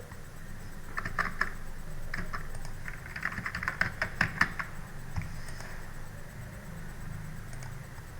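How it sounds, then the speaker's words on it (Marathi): Keys clatter on a computer keyboard as a name is typed into a Microsoft Word practice exercise, with quick irregular bursts of clicks over a faint steady background hum. "नाव टाईप करा"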